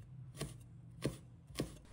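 Knife chopping small red chili peppers into rings on a cutting board, three distinct close thwacks spaced about half a second apart, quiet otherwise.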